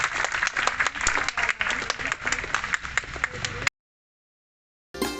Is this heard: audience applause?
yes